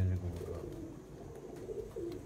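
Low, soft cooing from champion pigeons comes through murmuring background voices at a fairly quiet level.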